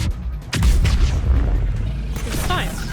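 A deep boom bursts out in the game Mass Effect, a heavy explosion that rumbles on loudly for a couple of seconds, followed by muffled debris and combat noise.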